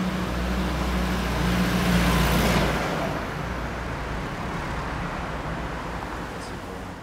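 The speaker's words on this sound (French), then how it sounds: "C'est pas une ou deux voitures qui passent et ça fait un peu de bruit" Steady roar of passing car traffic on a nearby street, one vehicle swelling loudly then fading into continuous road noise.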